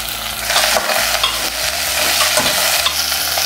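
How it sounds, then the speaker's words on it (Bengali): Vegetables including baby corn stir-fried together in a pan, a steady close sizzle with scraping stirs running throughout and no voices. "বেবি কর্ন সব একসাথে দিয়ে দিচ্ছি আমি আবারও বলছি কোনো সবজি কিন্তু বেশি ভাজা যাবে না"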